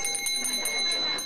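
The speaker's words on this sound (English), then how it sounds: "The personal touch is apparent in the bell donated by Ruth's husband" A family heirloom handbell rings at the opening of a hospital chemotherapy clinic, giving a bright, sustained metallic ring with repeated strikes, close and fairly loud, with voices faintly beneath.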